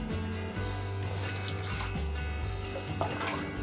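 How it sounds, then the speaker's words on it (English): Cooking stock strained through a filter in a kitchen, a steady stream of liquid pouring and splashing continuously, close and moderately loud with a constant low hum beneath. "we're going to filter our stock"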